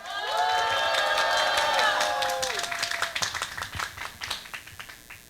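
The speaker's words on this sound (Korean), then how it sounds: "큰 박수로 모시겠습니다" A crowd at a labor rally breaks into loud applause and cheering, whistles and shouts at first, then the clapping thins into scattered claps as it fades.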